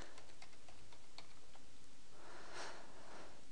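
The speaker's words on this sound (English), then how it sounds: "And then you have to type in the details again." Light keystrokes tap on a computer keyboard in a quick, uneven run of faint clicks that thin out, with soft background hiss and no voices.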